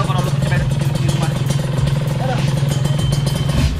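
A Ninja 150RR two-stroke motorcycle runs close by with a steady, buzzing engine drone that holds level throughout, with some talk over it.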